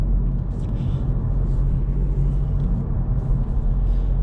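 A modified Corsa rumbles past, a low, steady engine drone heard at moderate distance with faint higher noise drifting over it and no talk.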